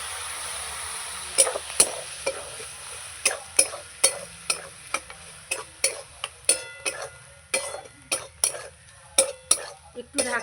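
Meat and spices stir-fried with a little water in a pot for a chicken dish, heard as a soft simmering hiss under a steady run of sharp metal spoon clinks and scrapes against the pan.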